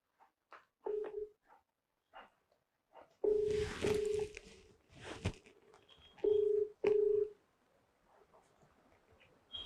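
Short electronic keypad beeps are tapped out in irregular bursts, followed by a few longer ringing tones, with quiet gaps and faint room noise between.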